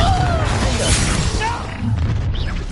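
Confringo blast spell exploding in Hogwarts Legacy, a loud booming burst with crackling debris over dense game noise, with a voice calling out around it.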